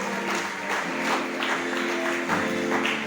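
A church congregation claps together in sustained applause at an evening service, steady and close, with a held musical tone underneath.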